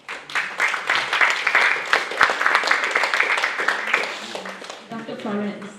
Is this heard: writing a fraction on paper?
no